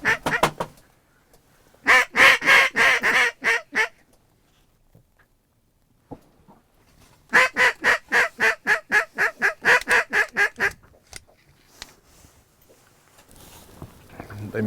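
Mallard ducks and geese calling on the Missouri River during a waterfowl hunt: two loud bursts of rapid, repeated honks and quacks, each lasting a couple of seconds, separated by quiet gaps, with faint scattered calls toward the end.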